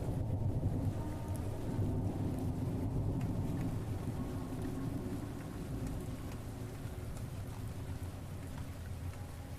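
Steady rain falls in a continuous soft hiss with a low rumbling undertone, even and unbroken, at moderate distance and with no voices.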